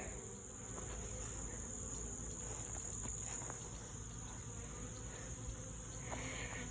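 Honey bees swarm around a busy, thriving hive, a steady close insect drone that holds without a break, with no talking over it.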